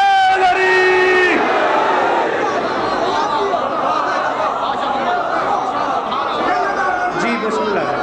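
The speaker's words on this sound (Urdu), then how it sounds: "سارے بولو حیدری" A majlis congregation in Sargodha chants "Haidari" together in response to the reciter, a loud dense crowd roar with shouting voices that holds steady throughout.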